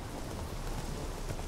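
Sudden rain in the video game The Witcher 3: a dense, steady hiss of rainfall fills the scene, loud and continuous throughout, with a faint rhythmic clatter like hooves beneath it.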